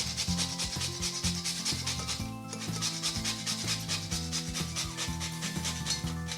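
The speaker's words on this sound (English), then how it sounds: "I always liked to grate fresh nutmeg because that definitely gives a better flavor." Fresh nutmeg rubbed against a grater for pumpkin bread, a continuous close rasping scrape in quick repeated strokes with a brief pause midway.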